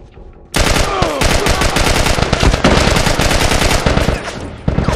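Rapid, loud, sustained gunfire from The Last of Us, a dense burst of shots in quick succession starting abruptly and continuing for several seconds, close and dominant.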